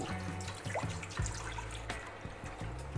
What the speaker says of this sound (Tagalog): lagyan lang natin ng tubig ang ating kasirola